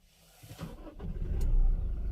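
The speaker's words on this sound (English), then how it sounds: "Let's start the car." A 2021 Toyota Innova Crysta BS6 engine cranks briefly and catches, then settles into a steady idle rumble, heard close from inside the car.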